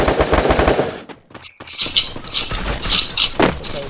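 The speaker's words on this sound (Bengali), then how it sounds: "শুধু গুলির শব্দ শুনি" Rapid bursts of gunfire in the Free Fire video game, loud at first, then a short lull before more scattered shots and clicks follow, with no talk.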